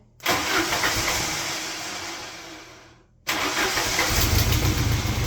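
A Jeep engine with a primed carburetor cranks and fires, running steadily and loud for about three seconds. It cuts out abruptly, then immediately catches again and keeps running with a rougher, deeper rumble.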